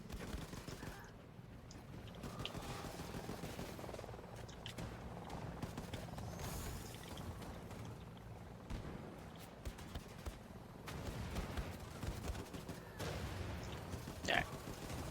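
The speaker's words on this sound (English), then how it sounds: "we're forced into, you know, shooting them up" Gunfire while shooting Nazis in Wolfenstein II, bursts of shots and rapid fire scattered through a busy, fairly faint battle mix, with some talk in places.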